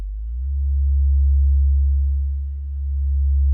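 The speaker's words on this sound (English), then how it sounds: "cool thing with sine waves, you detune them a little." A steady, pure low tone hums continuously, slowly swelling and dipping in volume as two slightly detuned sine waves beat against each other.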